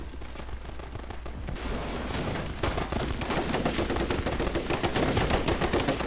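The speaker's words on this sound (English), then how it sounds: "bang, bang. Firefight." Rapid gunfire in a video game firefight, a dense rattle of automatic bursts and individual shots that grows busier and louder over several seconds, close and without speech.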